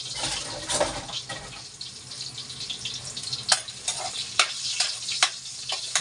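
Ginger sizzles in a hot pan while being stirred, giving continuous frying crackle with sharp spatula scrapes and taps recurring every second or so, close and fairly loud, with no voices.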